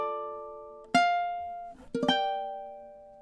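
A ukulele picks out a bar of the MASH theme, with a sustained chord ringing, then a sharp strum near one second and a quick pair of strums around two seconds, each left to decay in a quiet room.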